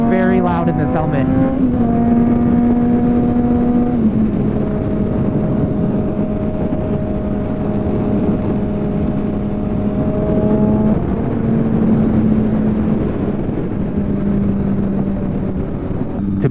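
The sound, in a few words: Honda CBR600RR motorcycle riding noise inside helmet at speed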